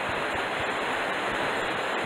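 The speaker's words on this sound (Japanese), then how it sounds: "合流から落ちた、 地蔵滝ですね。" Steady, full roar of the Jizo waterfall where streams join on the uppermost Watarase river, a dense continuous rush of falling water close by with no voices.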